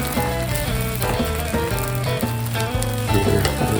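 Western omelette sizzling on a flat griddle, a steady crackling fry that continues with little change, with a faint musical background underneath.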